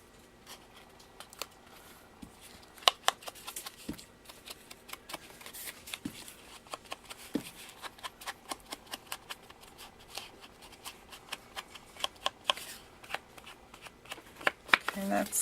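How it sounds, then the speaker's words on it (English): Paper edges being distressed by hand for a masculine handmade card, giving a run of quiet scraping, flicking strokes in an uneven rhythm that quickens toward the end, close up and soft. "I'm going to distress the edges of this paper."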